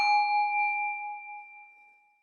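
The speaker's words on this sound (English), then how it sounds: "I'm going to ding my bell." A small bell struck once during a chapel breathing exercise, a clear bright ding with a pure sustained tone that slowly fades away over about two seconds, alone in silence.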